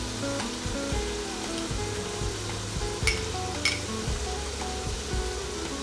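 Crushed garlic added to a sizzling pan for minced chicken and pea keema curry, with a constant close frying hiss, a couple of sharp spoon clinks, and a low hum underneath.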